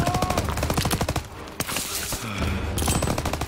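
Machine gun fire from Call of Duty: WWII rattles in fast, loud repeated bursts, close and sharp, with a brief pause before the rapid shots resume.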